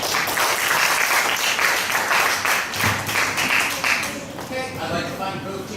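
Audience applause at the final round of a 2015 Shenzhen high school debate tournament, dense steady clapping that fills the room and fades near the end as a voice starts speaking.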